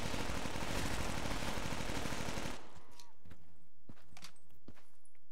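A cheese gun firing in a Black Ops 3 custom zombies tower map: a loud, dense run of rapid automatic shots for a couple of seconds, then scattered lighter impacts and clatter.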